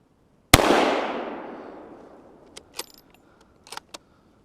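A single loud rifle shot cracks out during a deer hunt in a blizzard, its report rolling away in a long fading echo, followed by a few faint clicks and rustles.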